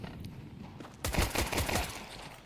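Rapid gunshots crackle in a Counter-Strike match on the Anubis map, a dense burst of fire that starts abruptly after a quieter stretch of game ambience.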